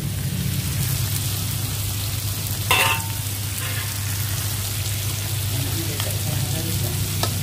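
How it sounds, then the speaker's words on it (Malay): Beef fried with turmeric and mixed vegetables in a pan, a steady close sizzle and crackle throughout with a brief stir or scrape partway. "Masak daging goreng kunyit biasa je."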